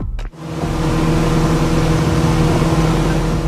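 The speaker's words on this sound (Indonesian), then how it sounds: "Deru suara mesin speedboat terdengar cukup kencang" A speedboat engine roars loudly and steadily right up close after a brief initial knock, a continuous deep drone with a rough mid-range growl and no talking.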